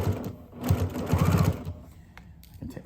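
A sewing machine stitches across layers of fabric for a kitchen craft, its close, steady whirring needle chatter running for about a second and a half before stopping, with light handling sounds after.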